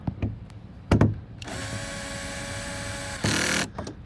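An impact driver drives screws into a van's interior during a conversion build, sounding a few short taps and clicks before a sustained whirring run of about two seconds and a harsher, louder burst at the end, close by with no talking.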